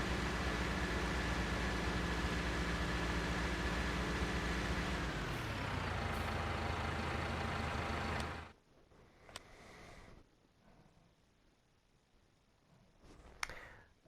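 A potato harvester in a farming video game unloads into a trailer on a South Brazilian map, a loud steady mechanical drone and rumble that drops in pitch and then cuts off abruptly, leaving only faint quiet background.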